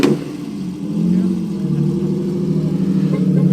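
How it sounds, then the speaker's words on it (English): A TVR sports car pulls away at a marina car meet, its engine a loud, steady, throbbing rumble rising slightly as it moves off, close by. "It looks like the TVR is going, so yeah, heading off."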